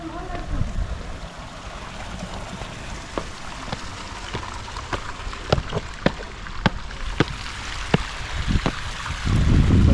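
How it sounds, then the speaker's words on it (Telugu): A small waterfall spills between rocks in the hills near the Ellora caves, a steady close wash of water dotted with sharp splashes and drips, with people talking at times. "ఇక్కడ వాటర్ ఫాల్ టైప్ ఉంది ఇక్కడ ఇక్కడ నుంచి వస్తున్నాయి వాటర్ మొత్తం పైనుంచి"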